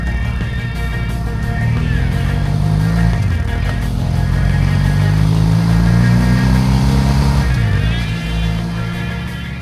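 A motorcycle on a coastal road in New Zealand's East Cape, engine droning loud and close with rising and falling pitch as it accelerates and eases off, wind rushing beneath.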